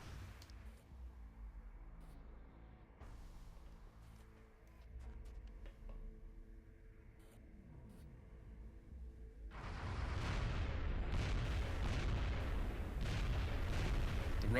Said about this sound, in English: forgot that sectopods always get free reaction fire